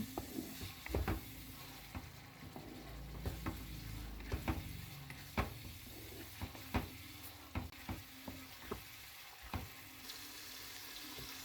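Octopus, squid and shrimp are stirred in a hot pan for Italian white pasta, giving a steady sizzle broken by repeated sharp scraping and knocking strokes of the utensil, close and fairly loud, with no talking.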